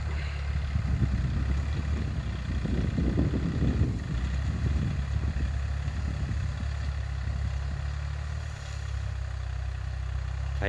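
A Kubota L4018 40 hp tractor works a rice field, its steady diesel drone running continuously at moderate distance with a low rumbling throb and brief load changes, no talk over it.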